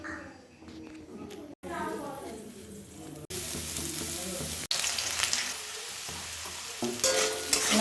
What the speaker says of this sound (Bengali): আলু কটা ভাজি দিই